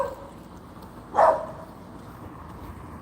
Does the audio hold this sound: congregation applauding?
no